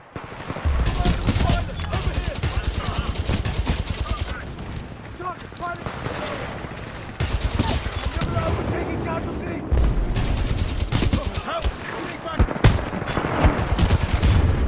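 Titanfall 2 battle: dense, continuous automatic gunfire and heavy booms fill the scene, loud and close, with a voice talking over the shooting.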